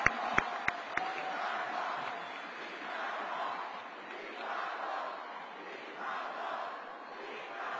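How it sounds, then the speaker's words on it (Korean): A convention hall crowd at a party leadership election cheers and applauds for a candidate. The sound is a distant, fairly faint roar of voices that swells and recedes in waves, with a few sharp knocks at the start. "수고해 주신 6번 이방호 후보께 힘찬 격려의 박수를 부탁드립니다."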